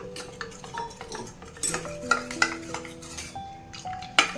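Custard powder stirred with cold water in a bowl, a spoon clinking and scraping against the bowl in irregular taps and rings, close and moderately quiet with no voices.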